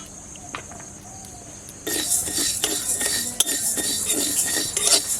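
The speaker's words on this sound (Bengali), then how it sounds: "ধনে গুলো ভেজে নেব।" Coriander seeds dry roasting in a pan for pickle, quiet at first, then a denser rustling crackle with metallic spoon scrapes and clinks against the pan, close and steady with no talk.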